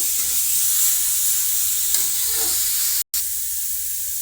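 Grated carrots roasting in a pan for gajar kheer, stirred continuously with a steady close sizzle and hiss, scraping strokes rising and fading, with one brief dropout partway through.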